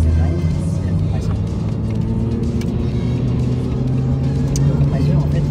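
A supercharged Lotus Evora S 350 pulls hard in third gear on the autobahn, its engine a steady loud drone with road roar throughout; people talk over it.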